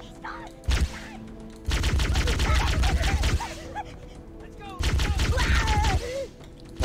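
Bursts of gunfire in the Halo video game, two sustained loud volleys of rapid shots with thumps and mechanical clanks between them.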